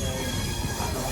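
Passenger train running near Chennai Egmore station, a steady broadband rumble of carriages and wheels on track heard from on board, continuous and fairly loud with no clear voices.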